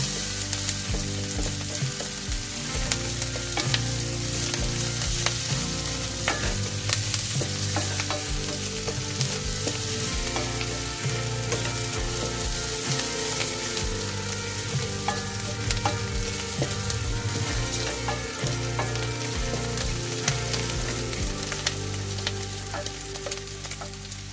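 Garlic fries in a pan of sitaw adobo, a dense steady sizzle with frequent close scraping and clattering of a spoon or spatula as it is stirred, continuous throughout with no talking.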